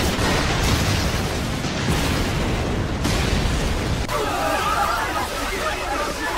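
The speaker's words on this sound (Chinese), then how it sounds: "乔瑟夫呆呆地看着眼前的巨大爆炸" A huge C4 explosion in an anime action scene, a loud sustained roaring blast with heavy low rumble and debris noise throughout, settling into a crackling, hissing aftermath near the end.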